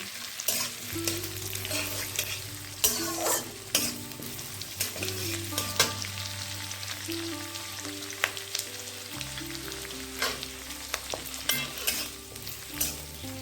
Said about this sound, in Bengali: ক্যাপসিকাম পেঁয়াজটা দিয়ে আরও তিরিশ সেকেন্ড ভেজে নিলাম